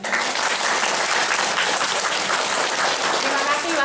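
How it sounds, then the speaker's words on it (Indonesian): Audience at a training workshop on making instant ginger powder and sweet corn milk bursts into loud, steady applause that holds evenly throughout, with talk mixed in. "tepuk tangan sekali lagi"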